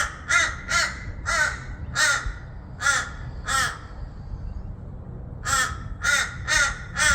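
Crows caw repeatedly outdoors, loud and close, in two bursts of harsh calls separated by a short pause, over steady low background rumble.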